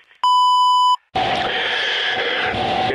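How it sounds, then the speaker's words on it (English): A single loud, steady electronic beep lasts under a second, followed after a brief pause by a voice talking. "Please leave a message after the beep"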